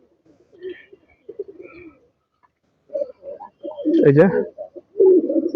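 Kaldum pigeons of a tournament-racing bloodline coo softly in short bursts from a loft housing nine birds, with someone talking over and between the calls.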